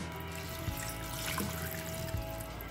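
Water trickles and pours steadily into a pot for chicken thukpa stock with vegetable scraps and bay leaves, a close, quiet, continuous flow.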